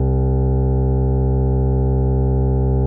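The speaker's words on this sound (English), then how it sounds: "Malstrom will play the segment you've chosen here with the index slider over and over again as a static waveform," Reason Studios Malstrom synth holding a static grain-table waveform, a steady buzzy harmonic-rich tone sustained at constant loudness before cutting off abruptly at the end.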